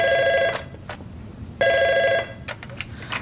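A telephone bell rings twice in bright, trilling bursts separated by a short pause, loud and close, followed by a few faint knocks and clicks.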